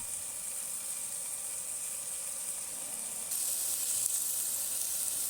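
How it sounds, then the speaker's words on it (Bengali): Chicken frying in butter in a pan, a steady bright hissing sizzle with no pauses that grows slightly louder partway through, close and continuous. "এই চিকেনটাকে এপিট ওপিট ভালো করে একটু ভেজে নেব"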